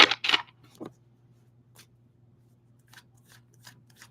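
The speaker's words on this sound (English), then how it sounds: "I'm hearing one more shuffle." Tarot cards shuffled by hand during a reading: two quick riffling bursts at the start, a softer flick shortly after, then faint scattered card rustles over a low steady hum.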